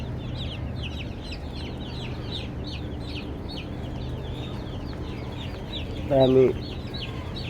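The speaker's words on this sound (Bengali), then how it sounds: "এগুলো হলো ব্রয়লার মুরগির বাচ্চা, নারিশ কোম্পানির ব্রয়লার মুরগির বাচ্চা" A crowd of one-day-old Nourish broiler chicks cheeping constantly in quick, high overlapping peeps, with a brief spoken word or two late in the clip.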